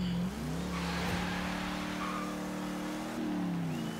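A 1973 AMC Gremlin X driven in the racing game Forza Horizon 3, its engine droning steadily and rising in pitch as it accelerates, with a brief tire squeal, loud and close with no talk.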